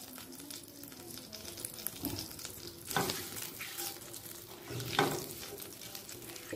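Bay leaf, cumin seeds and a dried chilli sizzle in hot oil as a soft, steady crackle, with a couple of louder bursts of spatter and stirring, close and fairly quiet.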